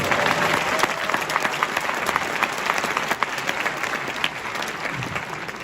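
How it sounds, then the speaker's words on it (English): Sustained crowd applause fills an event hall at a Khabib Nurmagomedov appearance in Detroit, dense clapping holding steady throughout with a few sharper claps standing out. "Okay, round of applause for that."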